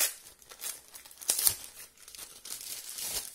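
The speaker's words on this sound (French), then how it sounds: "Je vous déballe." Packaging for a Xiaomi automatic soap dispenser crinkles and tears as it is unboxed, with soft rustling bursts and one sharper crackle midway, close and fairly quiet with no talking.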